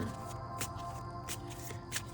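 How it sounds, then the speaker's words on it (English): Tarot cards being shuffled during a love reading, with soft repeated riffling and brief bright flicks at a steady level and no talk. "If you don't like the shuffling, you can always fast forward this part."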